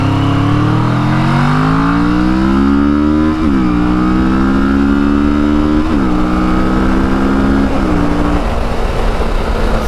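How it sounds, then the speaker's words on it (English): A motorcycle ridden at wide open throttle, its engine climbing loudly in pitch through several gears with brief dips at each shift, close and continuous over wind noise. "Gave a little bit of wide open throttle there."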